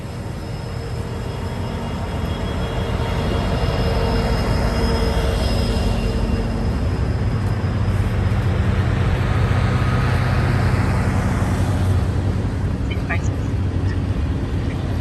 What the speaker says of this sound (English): Listen how quiet the train is, though.